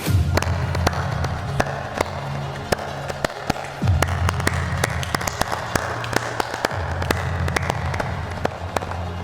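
Hands clap in sharp, uneven bursts in a playful game of hide-and-seek, mixed with a steady low hum and scattered background noise.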